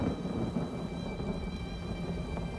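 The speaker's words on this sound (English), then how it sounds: "I could do without this damnable rain. It's been storming since we arrived" Steady rain and storm ambience in the video game ESO: Morrowind, a soft continuous patter with a faint low rumble beneath, constant and moderately quiet throughout.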